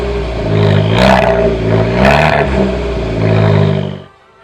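A modified hatchback engine revs hard three times, rising and falling with a raspy roar and clattering exhaust, loud and close, then cuts off abruptly into quiet.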